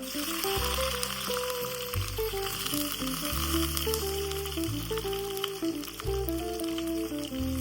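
Red chillies, onion, garlic and ginger fry in a pan with a steady sizzle, nearly hidden beneath loud background music with a clear melody that plays throughout.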